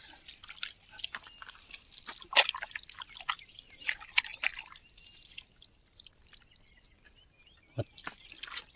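Water drips and trickles steadily while raw liver is washed in cold river water, with irregular splashes and a few louder drops, close and fairly soft.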